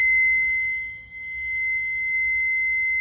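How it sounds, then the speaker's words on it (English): A warning buzzer alarm on a Land Rover Defender Td5 header tank sounds continuously and loud, a steady, high-pitched electronic tone holding one shrill pitch with a low hum underneath. "you will see red lights and buzzer flashing"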